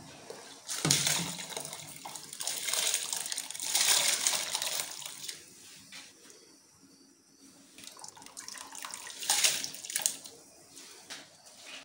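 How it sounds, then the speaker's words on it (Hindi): Rice is added to boiling salted water for biryani, making quiet bursts of pouring and splashing that ease into softer bubbling between them, with no talking. "अब ये देखिए चावलों का पानी गर्म हो गया है, उबल रहा है।"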